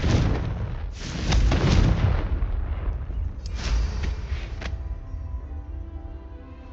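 Confringo fire blast spell cast in the Hogwarts Legacy video game: a loud, booming explosive burst followed by a second blast and rumbling crackle, fading into a low tail.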